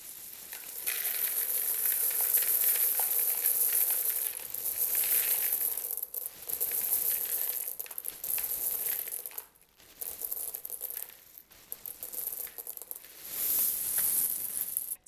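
Dry pasta poured by the pound into a large bowl, a continuous rattling, sizzling cascade of hard pieces with brief breaks and restarts as the stream shifts, close and fairly loud.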